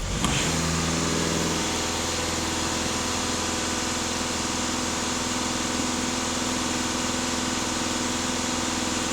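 A VW or Skoda car engine, checked after its emissions system was cleaned, holding raised revs: a loud, steady mechanical drone that climbs briefly at the start, then stays constant and close throughout, with no voices.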